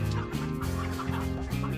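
Desi chickens cluck on a farm in a close, steady chorus of overlapping calls with a few distinct rising clucks, continuous across the short span.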